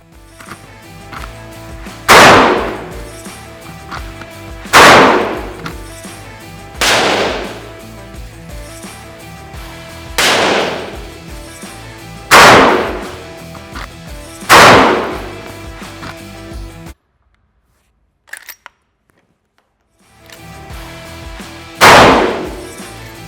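Loud shots from a Rossi R95 lever-action rifle in .30-30 Winchester ring out one at a time at a slow, regular pace on a shooting range, about seven in all, with a brief silent gap before the last.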